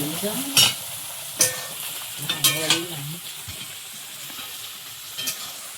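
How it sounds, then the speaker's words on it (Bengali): Spice paste frying in oil in a wok, cooked down until the oil separates, for a Bengali cauliflower curry in a Sundarban kitchen; steady sizzle with several sharp scraping stirs of a spatula, no talking. "মশলাটা কিন্তু দারুণ কষানো হয়েছে, তেল ছেড়ে দিয়েছে"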